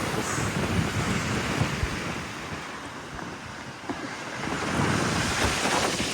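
Strong wind blowing across an open hilltop viewpoint at Attappadi, a steady, loud roar with gusty buffeting on the microphone that swells again near the end, with no voices.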